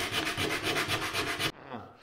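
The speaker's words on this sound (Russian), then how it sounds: "наждачкой поработаю" Sandpaper rubbed by hand over a plaster moulding template, a loud rhythmic back-and-forth scraping of about ten quick strokes that stops abruptly, leaving a faint rustle.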